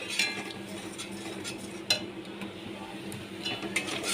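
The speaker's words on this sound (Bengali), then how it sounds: "ভালো করে আমি নেড়ে নিচ্ছি" Tomato paste, onion paste and green chilli being stirred in a pan with a utensil, faint scraping and clinks over a steady low kitchen background.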